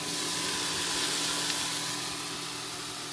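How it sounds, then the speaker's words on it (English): Smash burgers sizzle on a camping grill with a steady, even hiss at moderate loudness, unbroken and alone. "Look what's cooking up tonight. Cheeseburgers or smash burgers."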